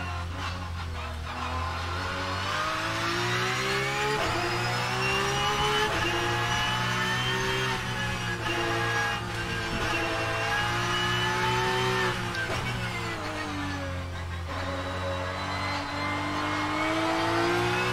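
Porsche 992 GT3 Cup race car engine in the rFactor 2 racing game, revving up through the gears with rising and falling pitch, loud and continuous with a few shifts and a faint tire squeal, no talking.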